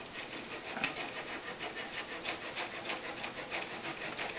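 A flexible flush-cut saw with teeth set to one side only trims protruding wooden wedges in the shop, giving a steady close rasping rhythm of quick strokes with no voices.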